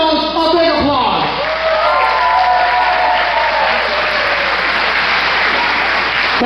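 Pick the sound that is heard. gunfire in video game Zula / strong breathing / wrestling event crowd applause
wrestling event crowd applause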